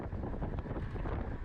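Headwind gusts buffet a rider's microphone during a bicycle race, a steady, close roar of wind noise with no talking.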